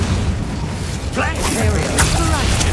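Spell effects in Hogwarts Legacy, with rising whooshing bursts and a booming impact over a constant low rumble of game sound and music; a voice talks in the clip.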